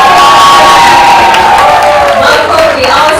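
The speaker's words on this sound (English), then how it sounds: "A round of applause for Helen" At the 2016 Women in Energy Awards, a large audience loudly cheers and whoops for an award winner, a dense wall of crowd noise that keeps going throughout.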